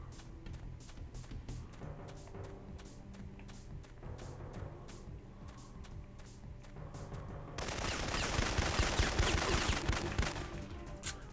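Automatic gunfire from the B-12 weapon in the PS1 game Syphon Filter, a loud burst of rapid shots near the end of a stretch of quieter game sounds.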